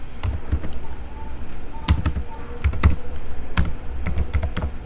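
Someone types a password on a laptop keyboard, the keys clicking in short irregular bursts of close, crisp taps against quiet background noise.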